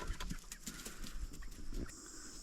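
Swedish Flower hens clucking softly on a farm in the morning, a few short irregular clucks and rustles heard close and faint, with no talk.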